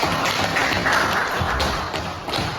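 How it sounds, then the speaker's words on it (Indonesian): Applause for Kayla in a classroom, a quick patter of scattered hand claps and taps from a small group of people, fairly close and lively, fading slightly toward the end. "yuk beri tepuk tangan buat Kayla ya"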